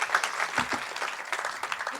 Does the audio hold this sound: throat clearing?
no